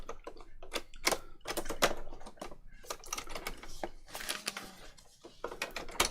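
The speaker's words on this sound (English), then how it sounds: "It's great that I've decided to give you a sewing demo with a machine that doesn't really work" A poorly working sewing machine stitching paper patchwork makes irregular, quiet mechanical clatter. Short rapid bursts of clicking alternate with brief gaps.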